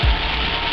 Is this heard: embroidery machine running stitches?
no